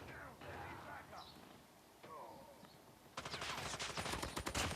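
Gunfire in the video game Call of Duty, heard faintly: quiet sounds give way to a sustained rapid burst of automatic shots in the final second and a half.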